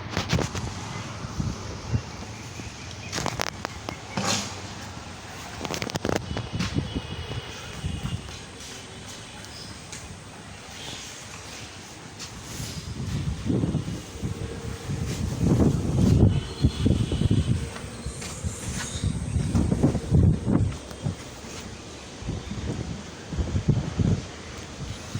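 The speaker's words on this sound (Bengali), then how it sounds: "প্রচুর বাতাস হচ্ছে আলহামদুলিল্লাহ।" Strong wind gusts buffet the microphone outdoors, a rumbling roar that rises and falls in uneven bursts and grows louder and more sustained in the second half.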